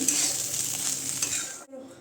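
Fried rice tossed with Hakka noodle masala and a little turmeric sizzles in a pan while a spatula scrapes and stirs it close up, the sound cutting off abruptly near the end.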